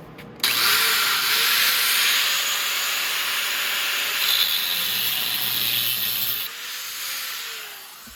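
A cutting wheel slices through a motorcycle exhaust baffle with a loud, close, steady hissing grind. It runs for about six seconds, then eases off briefly before a shorter burst.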